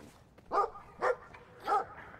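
A dog barks three times in the game Brothers: A Tale of Two Sons: evenly spaced, moderately loud woofs over a quiet background with no talking.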